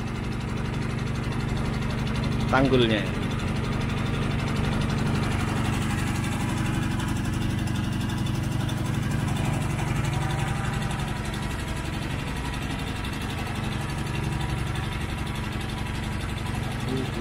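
Boat motor running steadily close by, with a low, continuous engine drone and a brief voice over it.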